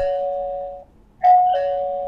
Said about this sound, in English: press the doorbell, wake up the device